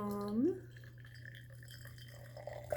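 Very hot water poured steadily into a vessel, a soft trickling and dripping with a glassy ring, fairly quiet over a low steady hum.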